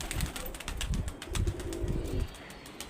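A young female white pigeon makes several soft, low bursts of cooing and rustling close by, spaced unevenly over a few seconds, with light background noise.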